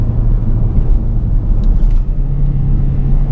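A 2018 Hyundai Kona with a six-speed automatic hums with a low, steady engine rumble after a downshift to third gear, heard from inside the cabin, droning without a clear rev change.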